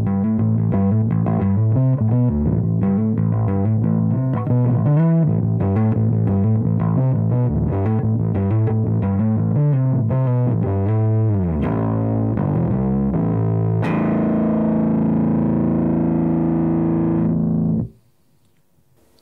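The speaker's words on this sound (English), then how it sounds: "So this week we're looking at the MXR Bass Distortion, and there is nothing subtle about this pedal." Bass guitar driven through an MXR M85 Bass Distortion pedal, playing a loud, gritty riff of chugging notes for about fourteen seconds before a sustained distorted chord rings out and cuts off near the end.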